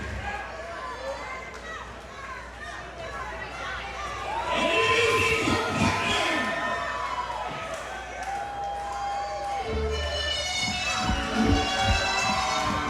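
Arena crowd at a Kissimmee wrestling show cheering and shouting for wrestler Amber Nova, a dense, loud roar of many voices that swells midway and stays high to the end.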